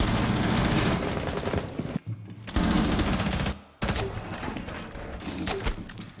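Rapid automatic gunfire in a multiplayer shooter game, loud bursts of dense shots with two abrupt brief pauses between them, continuing through to the end.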